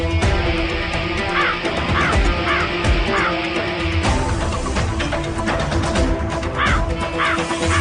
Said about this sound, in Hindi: ये कौवा कहाँ चला गया?